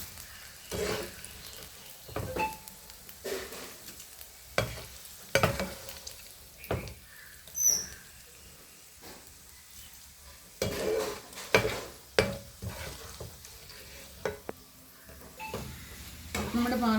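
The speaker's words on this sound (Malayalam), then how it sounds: "നമ്മുടെ പാവയ്ക്ക വറുത്ത് പോരുന്നതെല്ലാം റെഡി ആയിട്ടുണ്ട്" Bitter gourd fries in a pan with a soft continuous sizzle, while a spoon stirs and scrapes with irregular metallic knocks and clatters. Some quiet talk is heard under the cooking.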